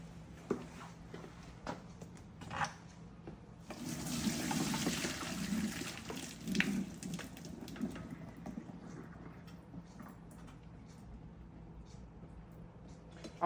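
Boiled potatoes drained in a strainer, a quiet room tone broken by a few seconds of water gushing out, then fading to faint trickles.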